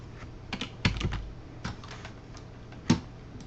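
Keys clatter on a computer keyboard in a few short bursts, with sharper single taps between them, close up and quiet with no voice.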